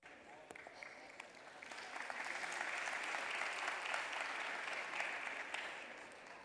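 An audience applauds at a cybersecurity forum, the clapping swelling from a light patter into a steady, full round that holds for several seconds, heard from within a large hall with no one speaking over it.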